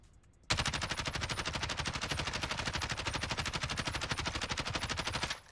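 Automatic weapon fire from the Modern Warfare video game runs as one continuous, rapid, evenly spaced burst lasting about five seconds, loud and close, starting abruptly and cutting off cleanly, with no voices.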